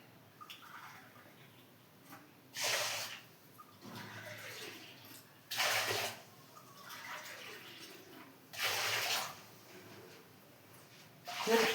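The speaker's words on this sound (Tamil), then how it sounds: "இதில் மூணு டம்ளர் ஊற்ற போகிறேன்" Liquid, coconut milk or water, is poured into a pot of rice in three separate bursts of splashing and gurgling, with quiet pauses between the pours and nobody talking.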